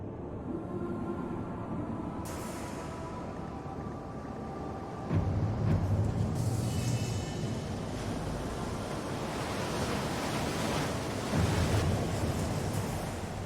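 Ocean surf washing along a shoreline, a steady broadband roar with waves breaking louder around five and twelve seconds, mixed with wind noise on the microphone and no voices.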